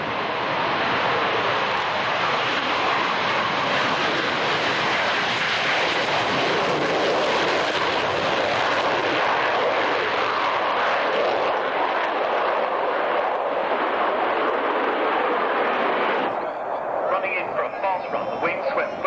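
A Tornado F3 ADV jet roars past at an airshow, a loud broadband rumble of engine and afterburner noise sustained for most of the pass before easing off, with commentary running underneath.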